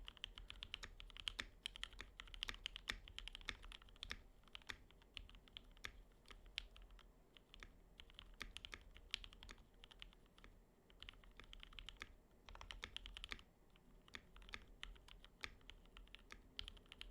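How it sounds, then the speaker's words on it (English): A mechanical keyboard fitted with GMK Laser keycaps on a Stellar65 build with Lavender switches is typed on steadily, producing rapid, close, crisp clacks of fairly even rhythm with short pauses and no talk. "And here is another typing test."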